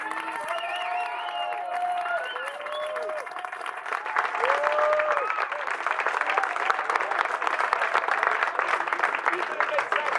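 Applause from a crowd at an outdoor French street protest after a speech by a doctor, steady dense clapping that swells louder midway, with voices and whistles weaving through it throughout.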